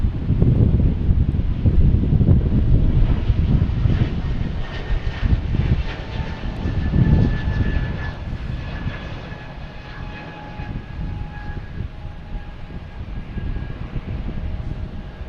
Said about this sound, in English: We have JetBlue coming in from Philadelphia, 2160 and A220.